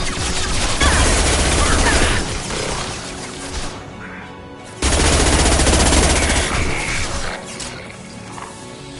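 Sustained automatic gunfire in the video game Mass Effect 2 during a fight aboard a Collector ship, loud rattling bursts in two long volleys with crashing impacts, voices shouting briefly between them.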